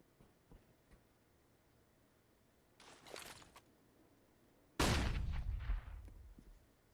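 Gunfire in Counter-Strike: Global Offensive during a tournament match: a short burst of shots around the middle, then a louder, sustained volley near the end, with quiet game ambience in between.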